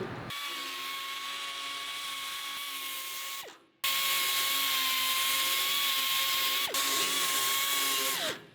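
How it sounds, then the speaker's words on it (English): A die grinder deburrs metal parts for a Gen II C10 fuel tank install, whining in two steady high-pitched bursts, each ending in a quick spin-down, with a short gap between them and no talking. "we're going to use a die grinder to deburr them"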